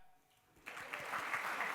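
Audience at the CREDAI NATCON 2025 inaugural session starts clapping after a quiet moment, a dense wash of applause from a large standing crowd that swells and holds steady.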